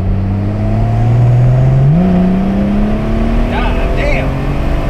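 A BMW 340 accelerating hard from inside the cabin, its engine note climbing through a gear change as it pulls, loud and close with a brief voice near the end.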